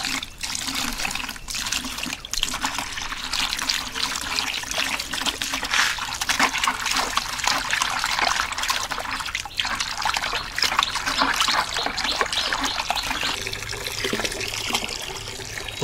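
Water runs steadily from a tap into a bucket with Epsom salt in it, a continuous close trickling and splashing that lasts throughout without talk.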